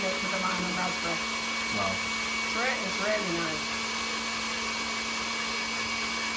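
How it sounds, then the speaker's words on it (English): A KitchenAid stand mixer whirs steadily at a constant motor pitch, mixing a lime and raspberry chocolate cake batter, with brief speech-like sounds over the drone. "Thing is, with the KitchenAid, I also want to go a little bit faster."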